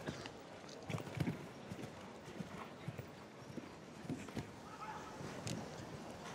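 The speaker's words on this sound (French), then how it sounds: "Avec son étalon Cassionato très puissant, il assure le dernier parcours du jour" Hooves of a powerful show jumping stallion on an outdoor course at La Baule, soft irregular thuds heard at a distance under a broad crowd and ambient wash.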